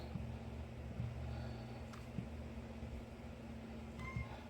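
A cat meows faintly a few times over a steady low mechanical hum, with no one speaking.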